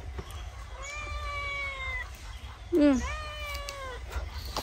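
Cats meow twice at close range, with a long drawn-out meow followed by a shorter, louder and sharper one, against faint room noise.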